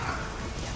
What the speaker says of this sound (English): There's just like a hurricane of my dog in the background.